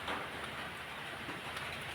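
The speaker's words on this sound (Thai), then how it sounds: "ฝนตกนะครับพี่ซี" Steady rain falling outdoors beside rice fields, a continuous soft hiss of drops on surfaces, faint and even throughout with no voices.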